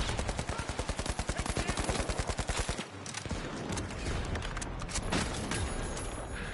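Sniper and automatic gunfire in the video game The Finals: a rapid, loud, evenly spaced burst of shots for about three seconds, then denser, irregular shooting continuing to the end.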